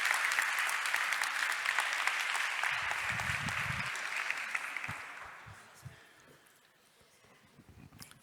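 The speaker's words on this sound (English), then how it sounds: "You can give a warm round of applause." A conference audience applauds to welcome a speaker at a Sicilian regional assembly event, with full clapping at first that gradually thins and fades into scattered claps and soft shuffling.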